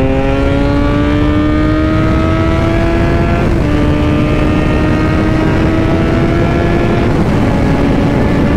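A naked street motorcycle accelerates on a highway, its engine note climbing steadily through the gears with two brief shift breaks, loud and close against heavy wind roar.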